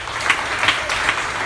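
Audience applause at a live improv comedy show, scoring a scene: a short, moderate burst of clapping from a seated crowd, steady and unbroken for about a second and a half with no talk.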